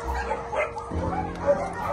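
A dog barks and yips close by in short bursts, with some whimpering and faint voices in the background.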